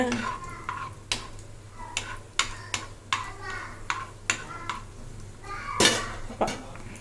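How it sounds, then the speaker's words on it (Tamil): Cashews frying in ghee in a pan give a soft, steady sizzle broken by repeated sharp clinks and scrapes of a spoon against the pan, close by and fairly quiet. "இப்போ பாருங்கள் முந்திரி நல்லா பொரிஞ்சிருச்சு"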